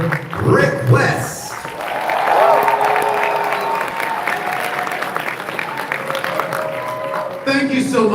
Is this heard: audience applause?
yes